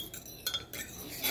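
A utensil stirs boba ingredients in a bowl, giving soft, continuous scraping and light clinking taps close by, with a few brighter knocks and no talking.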